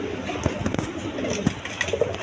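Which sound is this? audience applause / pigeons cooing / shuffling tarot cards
pigeons cooing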